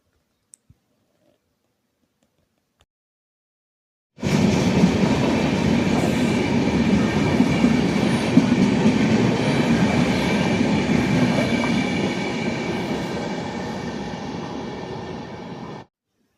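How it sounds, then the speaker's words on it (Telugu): A train rolls through Chirala railway station from about four seconds in, loud and steady with rhythmic clicking of wheels over rail joints continuing until it cuts off near the end; quiet before it arrives. "వచ్చేపోయే ట్రైన్లని చూసుకుంటూ వీడియో తీసుకుంటూ కూర్చుందాం"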